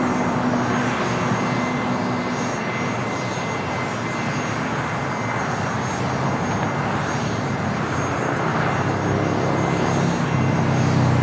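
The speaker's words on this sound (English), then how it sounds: "602 taking off to Amsterdam on the 787-10 Dreamliner." KLM Boeing 787-10 Dreamliner taking off from LAX runway 24 right toward Amsterdam, a constant broadband jet roar at moderate distance, even and unbroken for the whole stretch.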